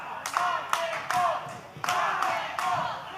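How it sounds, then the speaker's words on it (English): A wrestling arena crowd at the Hotpoint Davis Arena chanting rock and roll, rhythmic shouted bursts about every half second that ring out loud and roomy, backed by clapping. "Here comes the Hotpoint Davis Arena crowd saying rock and roll, trying to get the Rockstar back to his feet."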